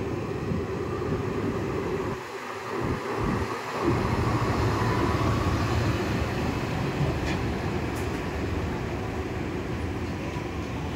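Humsafar Express passenger train rolling into New Jalpaiguri station, a steady loud rumble of wheels and carriage noise throughout with wind buffeting, a few heavier low thumps in the middle and no talk.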